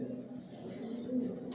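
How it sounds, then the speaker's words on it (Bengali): Pigeons in a loft with new bedding, a soft, low murmur of cooing running continuously under faint chatter and light rustle. "আল্লাহর রহমতে আপনাদের দোয়া আমার লফটের সব কবুতর বর্তমানে সুস্থ সবল ভালো আছে।"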